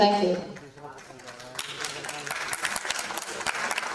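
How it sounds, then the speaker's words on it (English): A live audience at a song launch event claps, the applause building from about halfway through after a brief stretch of voice and music, then carrying on as a dense, steady patter to the end. "Big round of applause, please."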